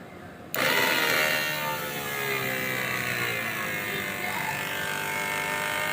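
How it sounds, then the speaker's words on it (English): An electric fuel pump starts abruptly for a fuel injector test and then runs with a steady, loud, close whine and hum that holds without pause. "I switch on the pump, the manual switch. Now to turn on the fuel pump."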